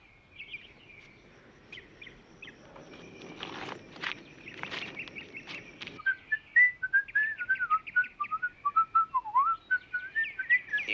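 Someone whistles a lively melody, bright notes rising and falling, with soft footsteps and shuffling noises in the first half.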